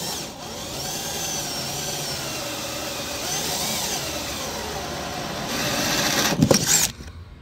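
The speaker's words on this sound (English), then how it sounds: "Make sure I get my drill bit right on that little dimple." Power drill boring slowly into a metal mini bike part to make a breather hole, a steady moderate whine that rises and grinds harder near the end before stopping abruptly.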